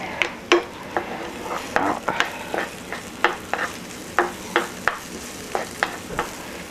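Olive oil sizzles in a pan while grilled salmon cooks, with a steady hiss under a regular series of sharp scraping and clinking strokes from a utensil.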